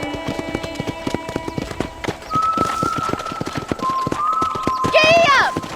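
A horse gallops in the video game Red Dead Redemption, its quick hoofbeats pounding in a steady, even rhythm all the way through, with higher tonal game sounds rising over the hooves toward the end.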